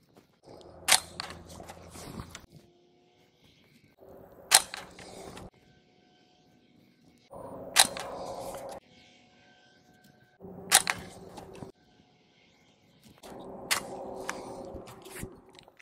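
Five quiet, sharp cracks from a suppressed Smith & Wesson M&P 15-22 firing Gemtech subsonic rounds, spaced a few seconds apart, each followed by a short mechanical rattle of the action.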